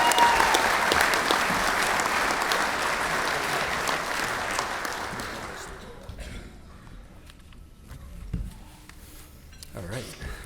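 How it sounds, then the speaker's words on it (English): Audience applause at the 2024 St. Louis Amateur Hockey Hall of Fame ceremony for inductee Rob Kellogg: loud, dense clapping from a large crowd for about six seconds, then thinning into scattered claps and room noise. "Please welcome back and give a big round of applause for Rob Kellogg"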